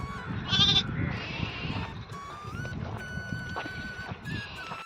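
Sheep bleat loudly near the start while eating onions, followed by a steady murmur of farm sounds and scattered quieter calls.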